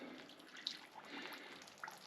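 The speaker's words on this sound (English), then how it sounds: "I'm simply going to put some spring water on top." Spring water poured over sugar in a brewing vessel for gooseberry and apple wine, a soft close trickle and splash lasting about two seconds, quiet, with no talking.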